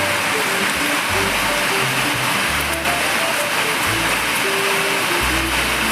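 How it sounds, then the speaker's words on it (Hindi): Dense, heavy rain pours in a constant roaring wash, with a low rumbling undertone rising and falling throughout. "बारिश एकदम झमाझम वाली बारिश लगी हुई है"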